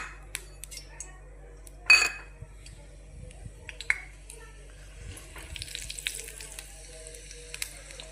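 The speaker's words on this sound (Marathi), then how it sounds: "आपण त्याच कढईमध्ये तेल गरम करून घ्यायचं आहे आणि त्याच्यामध्ये जिरे आणि कुटलेला मसाला टाकून परतून घ्यायचा आहे" Cumin and crushed spices fry in hot oil in a kadhai, giving a soft steady sizzle with crackles and a few sharp pops, plus a brief clatter of a spoon or utensil near the start.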